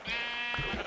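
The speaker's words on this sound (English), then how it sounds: "Another white sheep." A sheep in the Minecraft video game lets out a single bleat lasting about a second, clear and close, with no speech over it.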